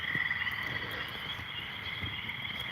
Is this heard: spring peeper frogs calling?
yes